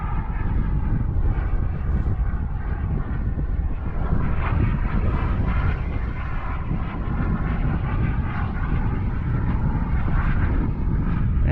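A Global Jet Club Hummingbird RC jet model powered by an ACEx-80 makes a half-throttle flying pass, a steady loud turbine roar with wind noise that swells slightly as it goes by.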